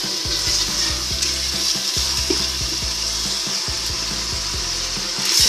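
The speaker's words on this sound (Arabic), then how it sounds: "يتقلى شويه في البصل والثوم" Chicken fries with onion and garlic in a pan, giving a steady close sizzle under quick repeated scrapes and knocks of a spatula stirring the pot; no one speaks.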